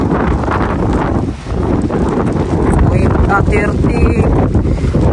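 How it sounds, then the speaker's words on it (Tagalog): Strong typhoon wind in Greenland, about 30 meters per second, roars and buffets the microphone continuously, loud and rumbling, with a few faint higher tones and possible distant voices beneath. "Grabing lakas ng hangin mga kabayan."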